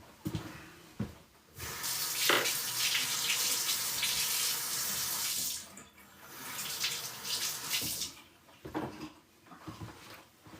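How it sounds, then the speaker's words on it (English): Water from a tap runs steadily into a sink as hands are washed, a continuous hiss broken by brief pauses and splashes, close by and with no voices. "I was just washing my hands."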